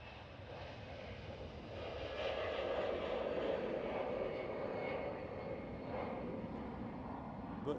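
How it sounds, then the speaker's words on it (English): An inbound EasyJet jet at Glasgow airport produces a continuous rumbling engine roar that swells slightly partway through and then holds steady at moderate distance, with no speech. "I'm watching the inbound EasyJet"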